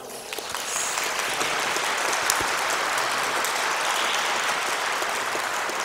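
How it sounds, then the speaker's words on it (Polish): Steady, dense clapping from a concert audience at a papal tribute concert, sustained and fairly loud throughout with no voices over it. "Pan Jerzy Zelnik, oklaski"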